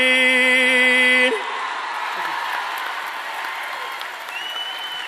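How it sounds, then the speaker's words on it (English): Mayo supporters at a live event break into loud, sustained applause and cheering, a dense crowd roar that follows a brief sung or played tone at the start and carries on steadily to the end. "A huge round of applause one more time for Oisín."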